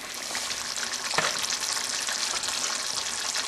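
Tomato pasta sauce sizzling in a pan as it is stirred, a steady close-up crackle and hiss with a brief scrape of the spoon, no voices.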